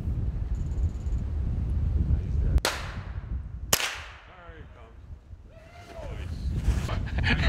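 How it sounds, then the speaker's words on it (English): Two sharp gunshots ring out a second apart while hunting a squirrel in a tree, loud and close, each with a trailing echo over steady wind noise and faint background voices. "One more shot would get it down."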